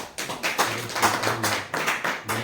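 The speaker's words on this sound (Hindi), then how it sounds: "ताली बजाओ" Audience at a Hindi spiritual gathering clapping in a steady, rhythmic beat of repeated claps, close and fairly loud, with no talk over it.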